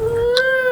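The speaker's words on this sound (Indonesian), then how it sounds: "Kucing." A cat gives a single short, clear meow, one brief tonal cry, close and fairly loud.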